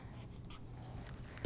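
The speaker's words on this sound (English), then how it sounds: "I'll just draw a little pair of scissors on it" Pen marking a small scissors symbol onto a paper circle skirt pattern, a soft continuous scratching of nib on paper running steadily for a moment, close and quiet.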